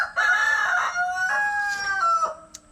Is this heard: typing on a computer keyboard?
no